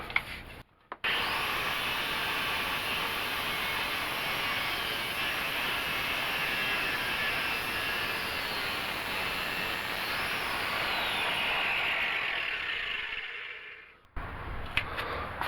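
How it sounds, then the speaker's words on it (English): Angle grinder shaving width off a metal part while restoring a 1946 Chevrolet: a steady, loud, continuous abrasive whine and rasp lasting about thirteen seconds. It stops briefly near the start and cuts off near the end. "take a grinder and shave some width off it."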